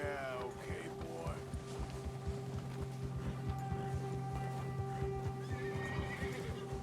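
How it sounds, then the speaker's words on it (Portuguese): An agitated horse in Red Dead Redemption 2 whinnies shrilly up close at the start and end, with hooves clip-clopping steadily underneath and a voice talking over it. "O seu cavalo, quando o seu predador está por perto, seu cavalo fica agitado."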